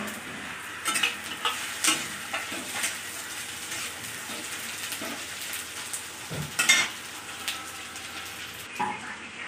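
Onions fry with garlic and ginger in a pan, a steady close sizzle broken by irregular scraping and clinking of a utensil against the metal, with a louder knock partway through.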